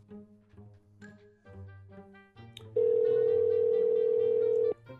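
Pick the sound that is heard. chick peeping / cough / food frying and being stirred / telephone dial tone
telephone dial tone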